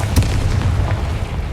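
A Confringo blasting spell bursts in Hogwarts Legacy, a deep booming explosion with a sharp crack near the start and a rumble that rolls on beneath it.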